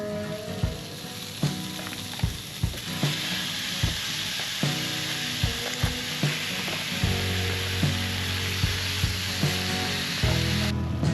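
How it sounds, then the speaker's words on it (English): Thin-cut beef frying with onion and garlic in a pan, a steady sizzle broken by repeated scraping and stirring knocks, close and fairly loud with no talking. "because this beef is cut so thin, it's only going to take literally 2 seconds to fry off"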